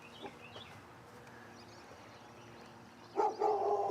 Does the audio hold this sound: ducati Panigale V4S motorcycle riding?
no